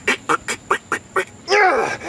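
A duck quacks six times in a quick, evenly spaced series, loud and close, followed by a longer raspy honking call.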